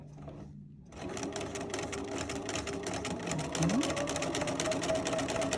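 A BERNINA sewing machine fitted with the #55 leather roll foot stitches at a steady, rapid, close whir after a brief quiet start, with a short spoken word at the beginning.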